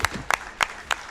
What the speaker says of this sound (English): Give a round of applause for to Spam.